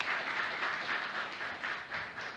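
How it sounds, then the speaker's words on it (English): Audience applause after opening remarks at a religious gathering, a steady wash of clapping heard fairly close and moderately loud, sustained through the short stretch with slight swells. "let's give Brother Rodney first a round of applause for his opening remarks."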